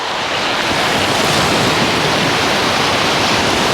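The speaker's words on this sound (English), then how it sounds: "I hope you guys can hear the waves" Ocean surf at Isla Verde Beach in Carolina, Puerto Rico, a loud, steady roar of breaking waves close by, with wind buffeting the microphone and no talking.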